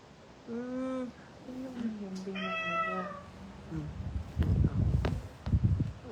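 A cat meows several times, drawn-out and fairly close, while a human voice imitates the meow to call it, followed by rustling movement.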